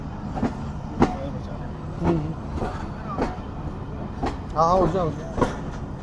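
A train draws into a main-line platform, its wheels clattering in irregular knocks and thumps alongside a low rumble, while nearby voices talk briefly amid the crowd.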